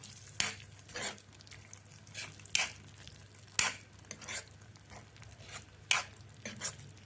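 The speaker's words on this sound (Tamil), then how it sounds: "அப்படியே மிக்ஸ் பண்ணி விட்டுடுவோம்" Spice powder stirred into a dish in a pan, a spoon scraping in repeated strokes roughly every second over a low background hum, no talking.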